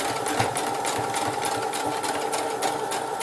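A home sewing machine stitches a quarter-inch seam on fabric for a tissue holder, a steady close-up whirring hum with a rapid regular needle chatter, running continuously without talk.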